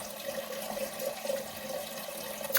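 Tap water runs steadily into a container in a rural home kitchen, a continuous close splashing stream heard alone at moderate volume.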